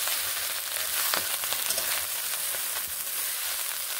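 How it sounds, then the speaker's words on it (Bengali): Potatoes and bottle gourd leaves fry in a pan with a steady, fairly soft sizzle and crackle, with faint stirring and no voices. "আস্তে আস্তে এইভাবে আমি ভেজে নেব।"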